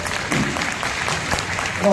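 An audience at a public meeting of a Dravidian political gathering applauds, with steady, dense clapping from many hands and voices mixed in underneath, swelling slightly at the end.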